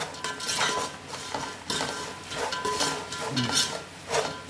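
Puffed rice is tossed into spiced masala in a hot pan off the stove, giving repeated dry rustling and metal scraping of a spoon against the pan, close and steady.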